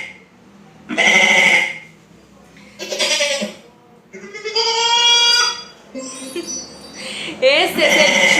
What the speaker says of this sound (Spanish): Este es el chivo.